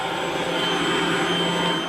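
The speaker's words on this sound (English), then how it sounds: "They're also using what's called the Insectizooka to vacuum up and collect engorged mosquitoes." An Insectizooka handheld vacuum runs steadily at a lamb feedlot near Ulm, where it sucks up engorged mosquitoes, giving a close, loud, unbroken motor whine and airflow roar with no talk.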